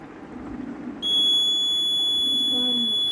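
A homemade water alarm's buzzer switches on abruptly and sounds as a loud, steady high-pitched electronic tone that holds without a break, following a short stretch of background noise.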